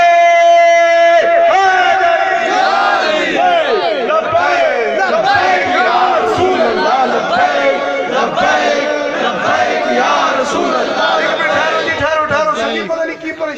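A large crowd chants a religious slogan in unison at a devotional gathering, loud, close and rhythmic, with voices surging in repeated shouted phrases.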